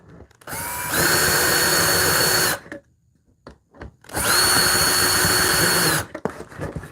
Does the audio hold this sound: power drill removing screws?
yes